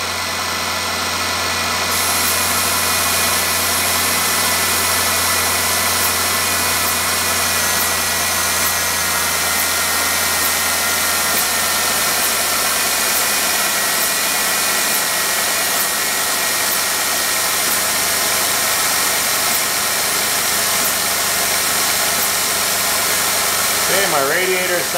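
A Robinair CoolXChange coolant exchange machine runs on a car radiator, giving a loud, continuous mechanical drone with engine-like hum and vibration that holds steady throughout, close up.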